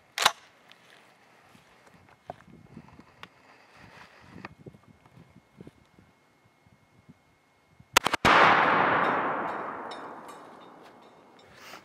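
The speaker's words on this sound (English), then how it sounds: "we're going to be shooting this 3-inch Winchester Super X 1-ounce slug" A Stoeger M3000 shotgun with an improved cylinder choke fires a 3-inch Winchester Super X 1-ounce slug at a steel plate about 25 yards downrange. A sharp, loud blast stands alone and decays into a long, rolling echo, with quieter handling sounds before it.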